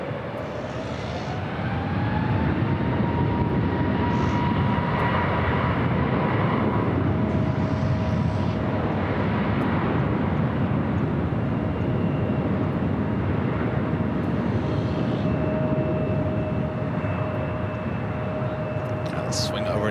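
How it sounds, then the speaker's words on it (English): An American Dreamliner airliner arrives on runway 24 right at LAX, its jet roar a steady broad rumble at a distance, with faint radio chatter underneath. "We got that American Dreamliner up next for arrival on 24 right."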